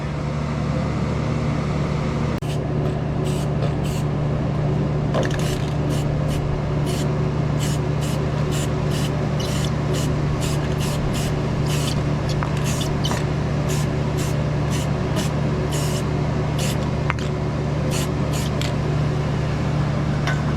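Spray painting a black coat onto an HVAC compressor: a steady hiss of spray with a few dozen short bursts and clicks, close, over a constant low hum, with no talking.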